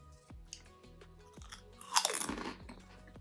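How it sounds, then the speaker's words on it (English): Salt and vinegar crisps being chewed, soft and somewhat chewy rather than crunchy, heard close up as rhythmic bites and mouth sounds with one louder crunchy burst near the middle, no talking. "More chewy than crunchy, but the salt and vinegar flavour is nice."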